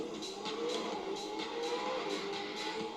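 Ferrari 488 Pista hypercar racing in the video game The Crew 2 on a snowy Blizzard Warning course, a quiet engine drone with rising and falling revs and repeated bursts of hiss.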